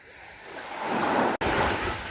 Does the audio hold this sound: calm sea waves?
yes